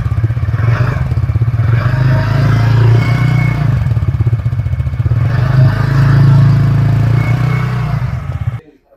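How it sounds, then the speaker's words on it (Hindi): Exhaust of a TVS Ntorq Race Edition 125 cc scooter idling and revving up close: a loud, steady low engine drone with a slight swell in the middle, then a sudden cutoff near the end. "इस तरीके का एग्जॉस्ट साउंड आपको मिल जाएगा।"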